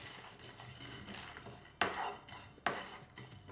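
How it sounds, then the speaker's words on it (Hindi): Roasted whole spices, including whole coriander, stirred with a utensil in a pan off the heat, two sharp metallic scrapes and clinks standing out over a soft background rustle. "अब गैस बंद कर दूँ और थोड़ी देर इन्हें चलाता रहूँ।"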